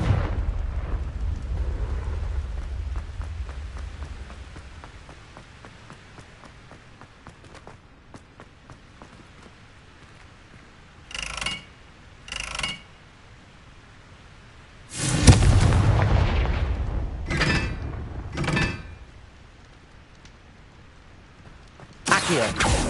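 A Confringo fire spell in Hogwarts Legacy bursts with a loud, booming explosion, preceded by a few short spell zaps and followed by further quick blasts over low background rumble.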